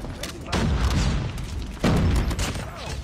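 Two heavy grenade blasts in Call of Duty gameplay, each a sudden deep boom with a rumbling tail, loud and close over steady game noise.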